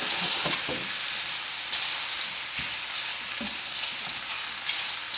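Cooked, chilled rotini pasta warms in a hot pan with a loud, continuous frying sizzle and periodic stirring scrapes, heard close and alone.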